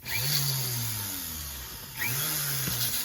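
A jeweller's foot-controlled drill fitted with a small ball burr spins up twice, each start a rising motor whine that settles into a steady close hum before easing off, with no speech over it.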